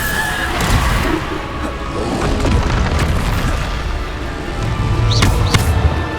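Bombarda spell explosions in Hogwarts Legacy, heavy booming blasts and crashes thudding repeatedly over a continuous rumbling battle din, loud and close, with sharper bright hits near the end.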